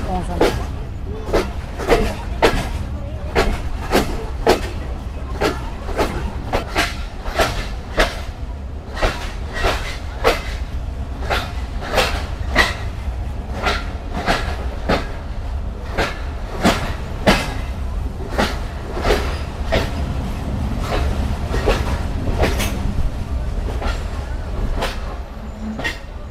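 Banglabandha Express intercity train rolls into Natore railway junction, wheels beating a steady clickety-clack over rail joints under a continuous low rumble, with a voice talking over the passing coaches.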